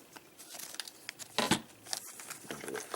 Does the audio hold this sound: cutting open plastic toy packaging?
yes